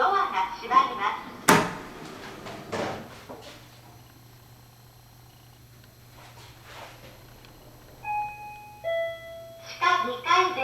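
Toshiba elevator doors in the east building of Amu Plaza Kokura close with a soft rumble and clunk after a recorded female announcement, followed by a short electronic chime of falling tones and more spoken announcement.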